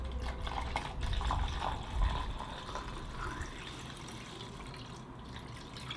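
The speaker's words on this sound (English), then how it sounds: "I'll pour my stock bath in right now" Film developing stock bath pours into a developing tank, a soft liquid splash and trickle with a couple of fuller gushes early on, faint and close, then thinning to a gentle dribble.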